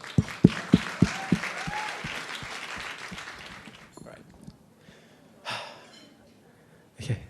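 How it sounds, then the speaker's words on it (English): Wedding reception guests break into a short burst of applause, with a few sharp, close claps at the start that thin out into a murmur of voices, followed by sparse scattered claps. "Can we get one more round of applause for Bav and Ching, please?"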